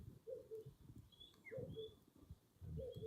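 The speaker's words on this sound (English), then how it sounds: "And then that's wood pigeons." Wood pigeons cooing outdoors, a soft, fairly faint coo phrase recurring about every second and a bit, with a few thin high chirps from other birds in the background.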